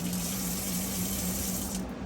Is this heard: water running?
yes